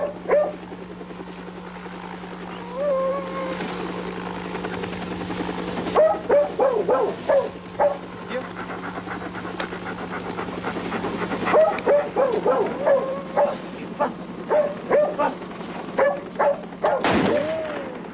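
A dog barks repeatedly in sharp, loud bursts close by during a police call, with some yelps mixed in over a steady helicopter drone.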